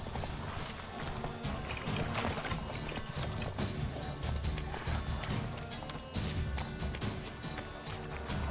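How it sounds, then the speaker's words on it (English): A horse gallops in a video game, its hoofbeats a steady driving clip-clop under a dense wash of game sound and music, continuous and fairly full throughout. "Just run, you stupid horse."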